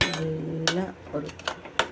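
A spoon clinks and scrapes against a pot while moong dal with tomatoes and coriander leaves is stirred, giving several close, bright metallic taps in an uneven rhythm over a faint background hum.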